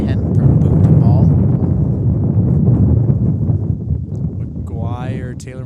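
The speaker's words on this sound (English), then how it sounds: "Wind is howling, so this kick may be difficult, but Belaski has shown that he can boot the" Strong wind roars across an open rugby pitch during a conversion kick in a BC men's premiership match, a loud, steady broadband rush under continuous commentary that fades slightly near the end.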